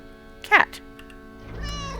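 A cat in the video game The Killing Stone gives one short, clear meow near the middle, with fainter ambient game sounds around it.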